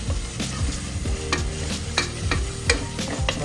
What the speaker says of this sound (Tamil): நல்லா அந்த பச்சை ஸ்மெல் போகிற வரையும் நல்லா வதக்கிட்டு